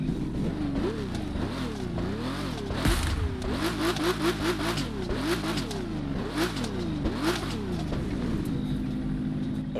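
A hypercar engine in the video game The Crew 2 revs repeatedly, rising and falling in pitch with sharp throttle blips, steady and moderately loud with no voices.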